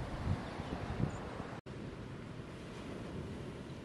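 Wind blows steadily across open East Anglian countryside, a continuous broadband rush buffeting the microphone with a brief dropout partway through, and no voices.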